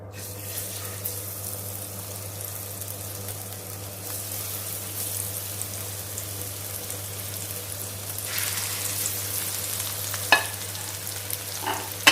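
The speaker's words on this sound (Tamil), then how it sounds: "இப்போ நம்ம மசாலா போட்டு வச்ச மீன் எண்ணெயில் போட்டுக்கலாம்." Masala-marinated fish deep frying in hot oil gives a soft, steady bubbling sizzle over a low constant hum. It brightens and grows louder partway through, with a few small clinks near the end and no talking.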